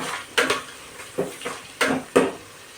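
A utensil stirs onions in a metal pot for chicken biryani, making about six sharp scraping clanks in an uneven rhythm over a faint sizzle, close by and with no speech.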